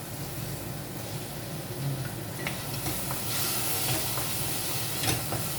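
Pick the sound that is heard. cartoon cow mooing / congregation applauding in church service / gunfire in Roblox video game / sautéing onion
sautéing onion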